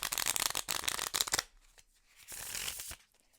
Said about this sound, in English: Not difficult at all to riffle shuffle